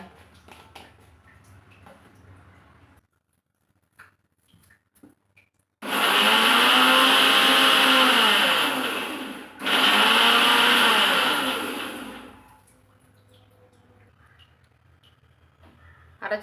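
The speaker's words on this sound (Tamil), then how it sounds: "இப்போ நம்ம அரைச்சிட்டு வந்துடலாங்க" A mixer grinder whirs loudly in two bursts grinding ingredients for salna, with a brief pause between them, surrounded by quieter kitchen sounds before and after.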